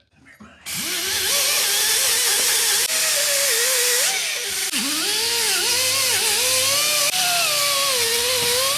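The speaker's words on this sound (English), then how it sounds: "we just scrape off all the old gasket crap that's on there" A power tool with rubber-footed abrasive disc grinds old gasket residue off an aluminum Jeep LJ engine head, a loud, steady whirring drone with shifting pitch, starting abruptly and continuing without pause.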